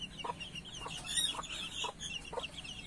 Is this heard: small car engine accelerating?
no